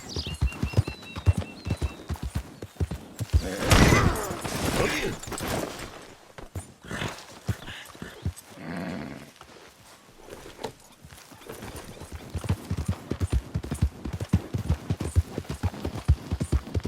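A horse gallops in Red Dead Redemption 2, with rapid rhythmic clip-clop hoofbeats running close and steady throughout, interrupted midway by a louder burst that includes a whinny.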